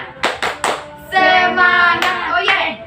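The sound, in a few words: classroom children doing rhythmic spirit clapping (tepuk semangat)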